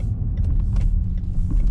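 A Range Rover Sport SDV6 HSE Dynamic diesel rolls slowly as it pulls in, giving a low steady engine rumble heard from inside the cabin, with faint mechanical clicks over the top.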